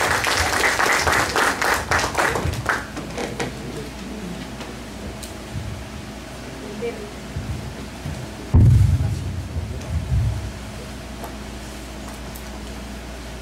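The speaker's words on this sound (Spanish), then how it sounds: "Recibimos con fuertes palmas." Applause from the audience at a natural gas conference in Ica, dense and loud for the first few seconds, then thinning to scattered claps with low rumbling handling noise and a brief thump near the end.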